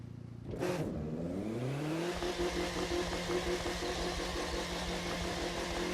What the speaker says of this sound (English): Not a bad sounding little car, I think we can all admit.